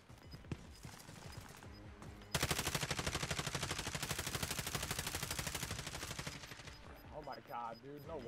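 Rapid sustained gunfire from a Kilo 141 assault rifle in Call of Duty Warzone (Modern Warfare), loud and dense for several seconds, with scattered shots before and after and voices talking near the end.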